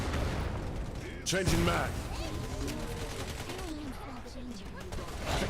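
Gunfire bursts in the shooter game Wild Assault, with a louder volley around the middle over steady battlefield noise while a player calls out over it.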